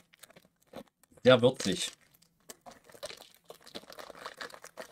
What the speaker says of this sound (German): du machst die Tüte auf